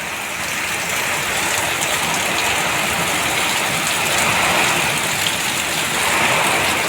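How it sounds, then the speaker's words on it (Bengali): Heavy rain pours down steadily and loudly, a dense unbroken hiss of drops beating on surfaces close by, with no voices heard. "তোমরা দেখতে পাচ্ছেন প্রচুর বৃষ্টি হচ্ছে জলের বহিটা দেখতে পাচ্ছেন"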